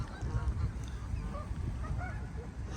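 Geese honk at a pond in a scattered series of faint calls, set against a low outdoor rumble of ambient noise, at a moderate distance with no clear talk.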